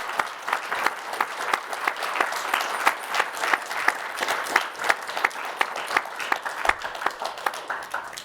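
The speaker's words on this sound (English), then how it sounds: "Please, let's all give a round of applause." Audience applause closing a distinguished planner lecture, a long run of close, crisp claps with sharp individual hits over a dense bed, holding steady for several seconds.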